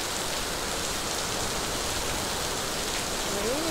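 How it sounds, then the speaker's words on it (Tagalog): Heavy rain pours outdoors at Gardens by the Bay in Singapore, a dense, steady hiss of downpour filling the whole stretch with no break and no clear voices. "It's raining. It's pouring."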